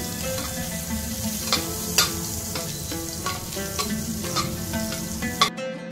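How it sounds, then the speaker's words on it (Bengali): Butter melting and sizzling in a pan for ema datshi as it is stirred, a continuous crackling fry with a few sharp spoon clicks, close and steady, without speech. "একটু নাড়াচাড়া করে নেব যাতে বাটারটা গলে যায়"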